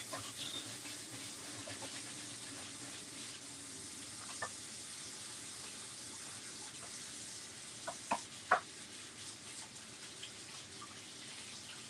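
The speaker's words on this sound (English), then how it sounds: "So just let me throw some water on my sheet and stencil." Tap water runs steadily over a gesso-coated sheet and stencil, a constant broadband splash with a few brief clatters near the end, moderately close and with no talking.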